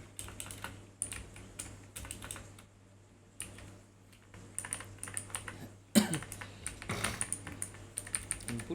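Typing on a computer keyboard: irregular runs of soft, close key clicks with brief pauses and a few louder keystrokes, under a low steady hum.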